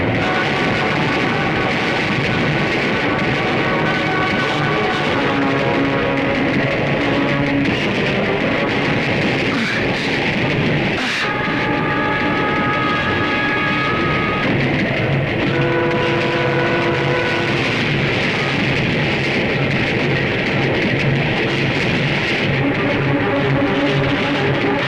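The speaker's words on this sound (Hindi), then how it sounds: "ये ट्रेन रुकी क्यों नहीं?" A train rolls steadily past without stopping in an Indian action film scene, a continuous loud rumble and clatter filling the whole stretch with a brief sharp accent near the middle.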